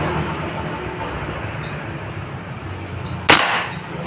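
A single sharp gunshot at a shooting target cracks out loudly near the end, over a steady background hiss and rumble.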